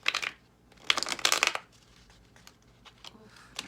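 Tarot cards are shuffled in a few quick, crisp riffling bursts separated by short pauses, close by and fairly quiet.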